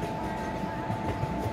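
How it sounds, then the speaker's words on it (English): Simulated Indian Railways express train running in the MSTS train driving game, a steady low rumbling drone with a constant tone on top, continuous and fairly loud throughout. "Driving a train is very easy."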